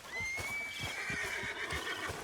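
A horse in Red Dead Redemption 2 gives a long, clear, close whinny that rises then wavers down, with hoof clip-clops thudding rhythmically underneath.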